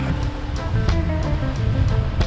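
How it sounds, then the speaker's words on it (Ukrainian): Sea waves washing onto the shore along a rocky Balkan coastline, a steady rushing surf with soft repeated breaks, heard alone without talk. "Ну що ж, от і море."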